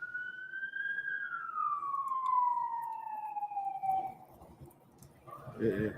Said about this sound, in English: they're trying to hit the sirens to annoy the guy to come out